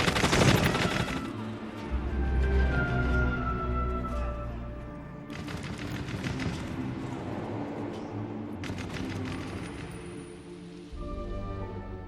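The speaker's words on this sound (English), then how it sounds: "On the way back, Soviet officers open fire on their own men for disobeying orders." Gunfire from Soviet officers shooting at their own retreating men, heard as dense, continuous volleys of rifle and machine-gun shots with sharp louder bursts throughout, at mid distance and with no talk.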